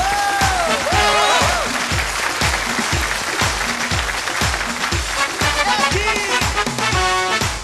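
An audience applauds the return of a female singer at a Vietnamese stage show. The clapping is steady and loud, mixed with a strongly rhythmic musical backing that has a regular beat about twice per second.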